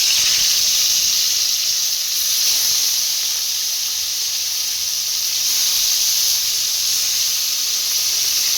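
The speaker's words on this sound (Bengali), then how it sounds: "এবার আমি মাছ ছেড়ে দেবো একটা একটা করে।" Koi fish, rubbed with salt and turmeric, dropped one by one into smoking hot oil; a loud, steady hiss and sizzle of frying fills the space without pause.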